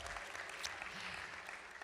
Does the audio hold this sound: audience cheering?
yes